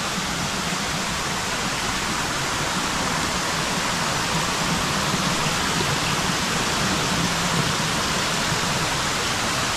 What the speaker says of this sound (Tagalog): Ilog dito rin oh